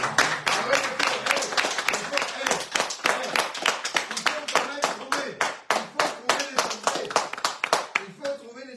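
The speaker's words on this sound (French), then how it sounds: "On applaudit le bistrot." Studio audience clapping for a radio bistro show, a crisp, fast burst of many hands that runs loud and steady for several seconds, fading as a voice comes in at the end.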